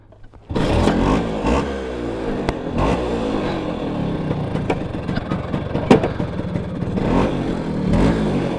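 A Vespa GTR scooter engine starts abruptly and keeps running close by, with several short throttle blips and revs rising above a rough idle, with no talk over it.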